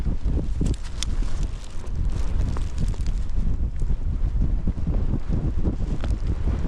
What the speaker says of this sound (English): "31-mile-an-hour gusts." That's what I'm getting.